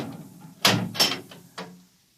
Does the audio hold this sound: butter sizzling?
no